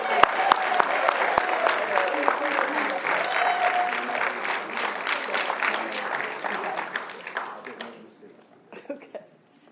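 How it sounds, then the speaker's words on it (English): An audience at a twelve-step recovery meeting gives a speaker a warm welcome with a long, full round of applause and a few whoops, which thins out to scattered claps near the end. "Give a big round of applause and a warm welcome for Sammy B"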